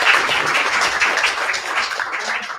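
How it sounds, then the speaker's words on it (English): An audience at a panel discussion on Auschwitz and Holocaust narratives claps steadily for the panelists in a sustained round of fairly loud applause, with no voices over it. "One more round of applause, please."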